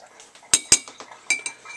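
A metal spoon clinks against dishes in a quick burst of bright, sharp taps, two loud strikes close together followed by a few lighter clinks, near and without talk.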